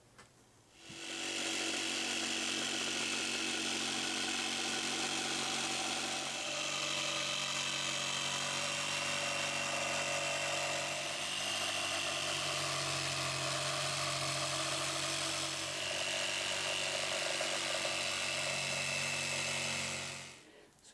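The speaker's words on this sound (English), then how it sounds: "I'll cut that out with a jigsaw" A jigsaw cuts a boomerang shape from 3/4 inch plywood in one loud, steady, unbroken run of nearly twenty seconds, heard alone and close up.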